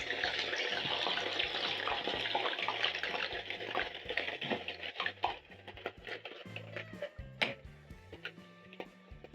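Potato pieces go into hot cooking oil for South African kota street food, setting off a loud, steady frying hiss that thins into scattered crackles and pops.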